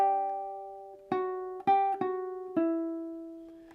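A ukulele plays one measure of a song: a sustained opening chord, then four plucked chords that ring and fade, close and quiet with no voice.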